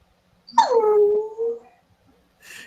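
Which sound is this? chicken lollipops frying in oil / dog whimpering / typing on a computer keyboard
dog whimpering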